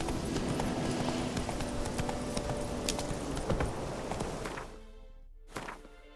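Horse hooves clip-clop at a steady trot in The Witcher 3: Wild Hunt, close and continuous, fading out toward the end with a final isolated thump.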